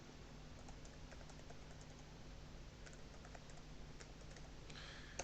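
Password being typed on a computer keyboard, a brief run of light key clicks under a steady background hum, fairly close and quiet, with no talking.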